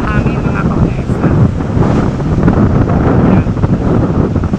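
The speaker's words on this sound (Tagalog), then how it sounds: "Lakas ng hangin mga kaunesa." Strong wind roars steadily at the shore during Typhoon Kristine, with broadband gusting noise buffeting the microphone and heavy surf churning beneath it, loud and continuous throughout.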